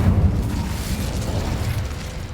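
An Incendio fire spell bursting in Hogwarts Legacy, a loud rumbling whoosh of flame with a low booming body that swells at the start and then rolls on steadily.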